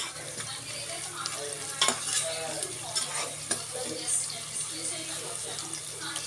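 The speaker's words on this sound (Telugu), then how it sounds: "ఉల్లిపాయ ఇలా వేగిందండి." Onion fries in a pan under a low, steady sizzle, broken by scattered scraping stirs and spatula taps, moderately quiet and close.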